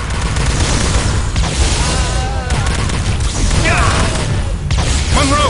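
Weapon fire in the video game Star Trek: Elite Force II: dense, continuous barrage of blasts and booms with warbling energy-beam tones threaded through, loud and busy, with voices mixed in.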